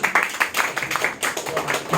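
Audience at a shareholders' meeting clapping briefly, a dense patter of hands that rises quickly and stays fairly steady for about two seconds, close and moderately loud.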